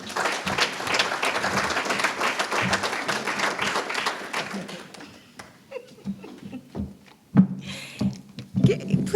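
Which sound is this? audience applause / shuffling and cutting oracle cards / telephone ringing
audience applause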